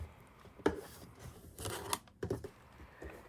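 Quilt fabric units being trimmed to square with scissors or a cutter, a few quiet, irregular crisp snips and slicing strokes close by.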